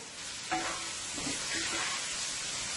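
Sautéed vegetables, including string beans, frying in a pan, a steady hissing sizzle with a few soft stirring knocks, close and even throughout.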